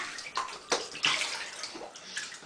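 A baby splashes in bath water, with a few soft sloshes and slaps rising and falling close by over a couple of seconds, and no talking in between.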